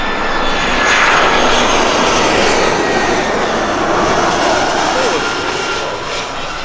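A plane passes overhead on its approach to land in Lanzarote, a loud, steady broadband jet roar that swells and holds for several seconds with people talking beneath it.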